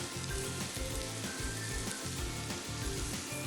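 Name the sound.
celery and garlic sautéing in a pan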